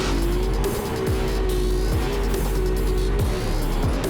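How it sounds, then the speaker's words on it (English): BMW drift car sliding at a big angle in a drift competition in New Jersey, with a loud sustained engine roar and continuous tire squeal throughout, close and dominant. "The United States Air Force BMW initiates big angle there."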